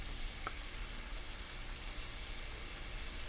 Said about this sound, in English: So let's go ahead and put the scallops in.